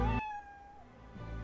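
Eve the cat gives a single clear, drawn-out meow in the Professor Layton vs Phoenix Wright game, loud and close, with a quieter lull and faint rumble after it.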